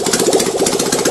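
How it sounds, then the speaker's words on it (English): A misfiring engine on a welded engine mount runs with secondary fire in the exhaust, giving a rapid, uneven chugging with irregular bangs. It is loud and close, and there is no talk. "That banging you can hear is the secondary fire."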